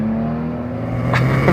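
A Maserati car engine hums and rises in pitch as it revs, heard from inside with the sunroof open, with a brief whooshing swell near the end.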